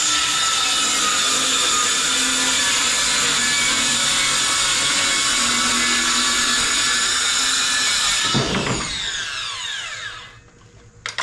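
A power saw cuts through wood for a cabinet in a steady, loud whine lasting about eight seconds, then the blade winds down and fades to quiet.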